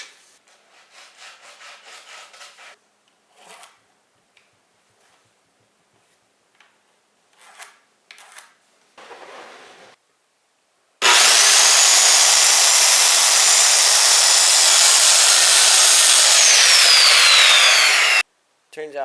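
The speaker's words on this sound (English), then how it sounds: "I'm just going to trim that quick with the saw" A saw trims a pallet wood board for a raised garden bed, one loud continuous cutting run of about seven seconds after quieter scattered handling knocks and brief talk.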